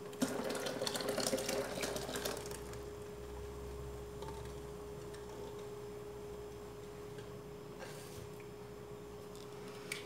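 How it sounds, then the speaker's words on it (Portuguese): Cooking water with seasonings poured in while making chicken-feet collagen squares, a brief splashy pour in the first couple of seconds followed by a faint steady hum and quiet kitchen sounds. "a gente acaba de colocar, pessoal, a outra parte da água do cozimento com todos os temperos"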